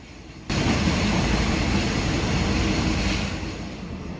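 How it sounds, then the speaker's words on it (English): A local train on the Chiang Mai to Lampang line in Thailand roars into Khuntan Tunnel, its noise surging suddenly into a dense, loud, steady rumble that fades slightly toward the end. "the train plunges into the legendary Khuntan Tunnel, the longest railway tunnel in Thailand"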